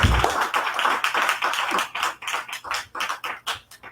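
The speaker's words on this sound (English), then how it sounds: "Give her a round of applause" A small audience claps to welcome a speaker at an evening astrology and numerology talk, with fairly faint, sparse handclaps falling into a loose, rhythmic beat.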